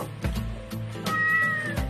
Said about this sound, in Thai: แมวเนี่ย มานี่สิ